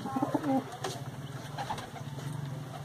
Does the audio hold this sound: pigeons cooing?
yes